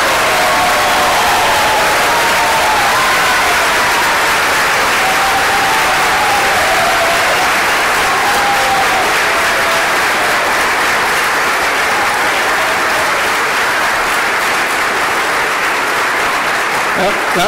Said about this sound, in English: Now give them all a round of applause.